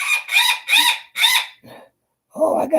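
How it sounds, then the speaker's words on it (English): A rooster crows in a run of loud, close calls, four strong bursts in quick succession, then a rougher fainter cry and a final call after a short pause. "Oh, I got a mad rooster."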